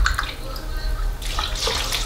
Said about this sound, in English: Three cups of water